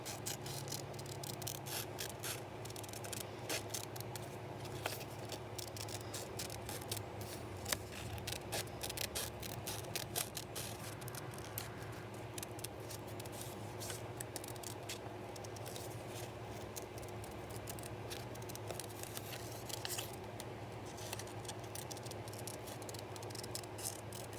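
Scissors snip through paper to cut out a small printed image of King Tut for a mixed media craft project, a soft run of quiet, closely spaced clicks and rustles continuing throughout with no talking.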